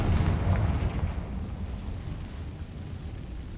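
A Confringo fire spell detonates in Hogwarts Legacy, giving a deep, rumbling blast that booms loudest at the start and then decays into a long, low roar with no talking over it.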